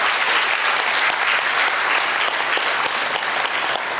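An audience applauds for a business head at a women's investor event, dense sustained clapping from many hands, loud and steady for the whole stretch without a break.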